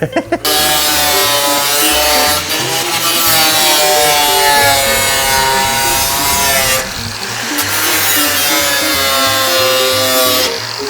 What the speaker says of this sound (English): Or you can just use cut-off blades. Probably what we're gonna do.